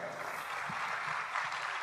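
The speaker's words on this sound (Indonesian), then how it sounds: "Silakan tepuk tangan." A conference audience at a 2014 Indonesian industry outlook event claps for a speaker, a continuous, fairly even spread of applause from a hall full of people.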